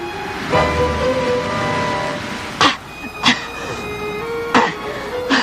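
Thunderstorm on an island with steady rain and a low rumble, broken by several sharp thunder cracks about a second apart in the second half, loud and close.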